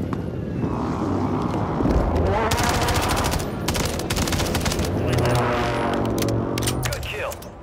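Rapid automatic gunfire from a Call of Duty Rebirth Island match, dense bursts of shots crackling through the clip over steady game noise, with players talking over it.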